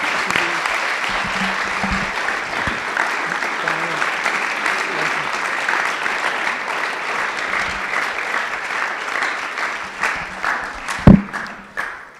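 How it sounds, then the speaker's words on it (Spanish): A congregation at a religious testimony gathering breaks into strong sustained applause, dense clapping that holds steady for several seconds, then thins out near the end with a few louder scattered claps. "vamos a darle un fuerte aplauso a Dios"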